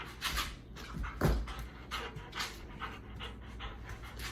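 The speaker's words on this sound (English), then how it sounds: "Such a needy dog." A dog panting rapidly and close by, quick wet breaths in an uneven rhythm with a few louder huffs, and no one speaking over it.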